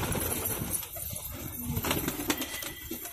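A pigeon coos softly amid a noisy, rustling background, with low throaty calls and faint wing flutters close by.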